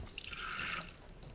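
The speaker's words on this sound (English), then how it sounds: "Just gently fill that up with water." Water gently poured into a container to rinse potato seeds, a brief, soft splashing fill that swells and fades within about a second, quiet and close.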